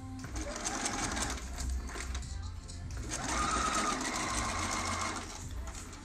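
A Bernina sewing machine runs steadily, stitching netting to a sleeve lining with a continuous close whirring hum that speeds up briefly midway.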